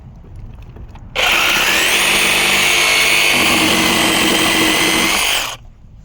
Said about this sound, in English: Now we'll finish it off with the reciprocating.